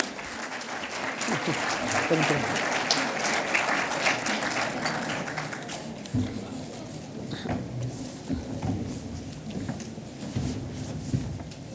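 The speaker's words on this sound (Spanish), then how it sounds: "se pueden dar un aplauso a Vania Bachur" A crowd at a book presentation at the Guadalajara book fair claps for an arriving guest, sustained applause that gradually thins out, with voices murmuring underneath.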